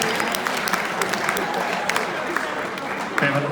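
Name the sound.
seniors giving a round of applause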